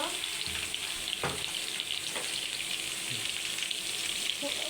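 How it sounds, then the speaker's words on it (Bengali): Pointed gourd (potol) sprinkled with salt and turmeric sizzles steadily in hot oil, a continuous close frying hiss with a few soft stirring knocks. "এখন আমি ভেজে নিব 10 মিনিট মতো"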